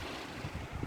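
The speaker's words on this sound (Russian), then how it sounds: "ветер очень слышно даже вой этот ветра" Gusty wind noise from a 25 m/s hurricane-force storm around wind turbines, a steady rushing roar with low buffeting swells near the microphone and no one talking.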